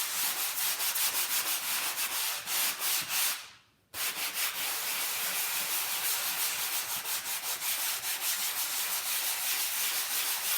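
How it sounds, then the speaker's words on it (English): A sanding sponge rubs back and forth over wood brushed with hemp oil. The rough scratchy strokes are close and continuous, with a short pause partway through. "you take your sanding sponge, and you can really hear it"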